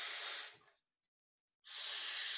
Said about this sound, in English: now I'm just going to blow into this, and that's going to stir up the sediment that's in there